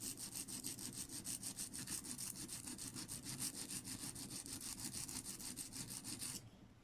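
A lino printing tool's bevel is rubbed back and forth on a wet sharpening stone in a fast, even scraping rhythm, close and steady for several seconds before stopping abruptly.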